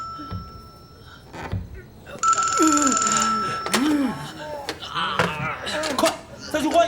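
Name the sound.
telephone ringing inside a wall, from a war film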